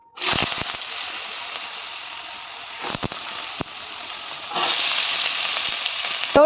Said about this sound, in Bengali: আমার আওয়াজের ওপর দিয়ে আওয়াজ পাচ্ছ মানে সেই যে বৃষ্টি সকালে স্টার্ট হয়েছে